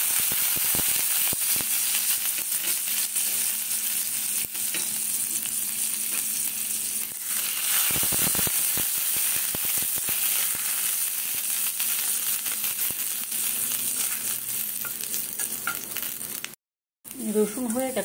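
Garlic frying in a little refined oil for momo sauce hisses in a loud, continuous sizzle with occasional stirring scrapes, close to the pan, broken near the end by a brief silence.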